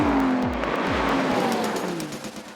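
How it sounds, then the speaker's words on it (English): Cars drag racing on a private airstrip in Sweden, engines roaring loud and close, with revs climbing and shifting in repeated sweeps and tires squealing as they launch and pull away. "this stopover in Sweden to go drag racing on a private airstrip"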